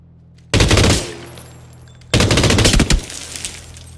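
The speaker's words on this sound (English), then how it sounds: "Machine gun." Two long bursts of automatic machine gun fire in PUBG, each a loud, rapid volley lasting about a second, separated by a short quiet gap with a low steady hum beneath.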